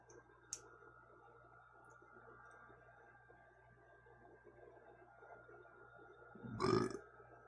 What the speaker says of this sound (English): I just burped, and it was a quality fucking burp